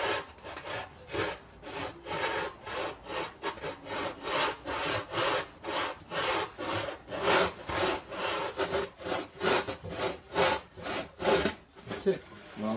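A hand saw cuts through wood in a steady rhythm of long push-and-pull strokes, each rasping stroke clearly separated, close and loud, with the pace quickening slightly toward the end.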